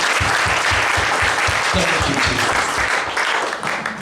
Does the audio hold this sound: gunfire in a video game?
no